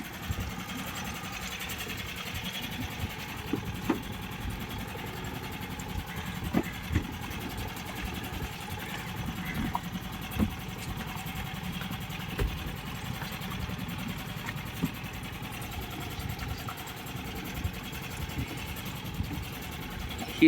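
Small tourist boat seating eight, its engine running steadily on the Kuttanad backwaters in Kerala, a continuous low mechanical drone with faint rattling and no talk.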